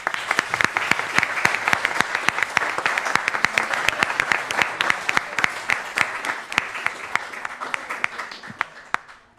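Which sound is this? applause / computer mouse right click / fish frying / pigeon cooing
applause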